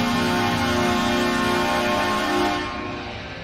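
An NHL goal horn blares loud and sustained alongside the goal song, a dense continuous blast that swells slightly and then fades toward the end.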